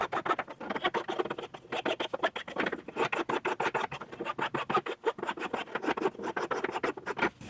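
Sanding block worked by hand over the corners of a homemade fret file, rounding off sharp metal edges: quick, steady back-and-forth rasping strokes, close and fairly loud, repeating without pause.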